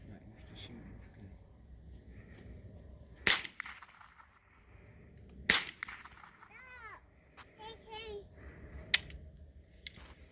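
Three sharp, loud cracks from a Mossberg 715T .22 LR rifle, spaced a few seconds apart at close range, with people chatting quietly between the shots.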